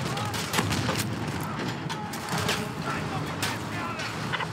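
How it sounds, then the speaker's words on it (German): Machine gun fire rattles through a Battlefield V campaign battle, rapid sharp bursts crackling over a dense rumble of combat noise, with shouted voices mixed in. "MG-Feuer eröffnen!"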